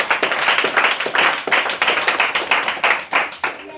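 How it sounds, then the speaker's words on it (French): A church congregation claps loudly in quick, uneven bursts, the sharp hand-claps close and dense, with a few voices rising briefly beneath them. "On acclame fortement la parole du Seigneur"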